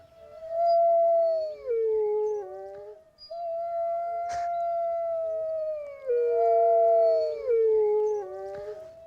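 Wolves howl in long, wavering tones that rise and fall, several voices overlapping at a moderate distance. The howling continues steadily throughout.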